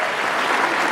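A ceremony crowd keeps applauding, a dense, even wash of clapping that holds steady through the brief moment with no break.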